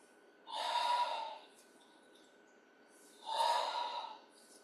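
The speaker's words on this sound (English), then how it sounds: "Inhale." Deep yoga breathing during a therapeutic spinal class, two slow, audible breaths drawn through the nose, each about a second long with a quiet pause between, close and alone.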